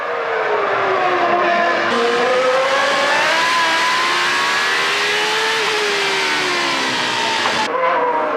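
Formula 1 race cars from the 1996 Monaco Grand Prix scream past at full throttle, a loud sustained high-pitched engine wail with pitch sweeping up and down through gear changes, nearly continuous for eight seconds.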